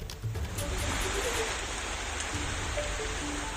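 Heavy rain before Cyclone Yaas makes landfall at Digha in West Bengal, heard as a loud, dense, continuous hiss of rainfall and wind with no pauses.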